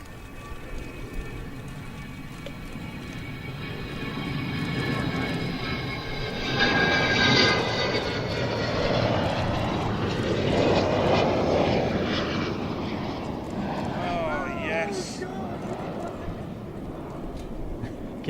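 Avro Vulcan bomber flying past at an air show, a loud broad jet roar swelling and fading over about eighteen seconds with a crowd and voices audible beneath it.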